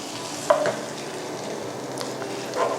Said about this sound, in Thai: แล้วเราก็เอา กะทิค่ะใส่ลงไป